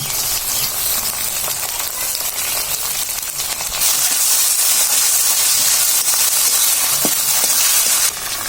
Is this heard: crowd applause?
no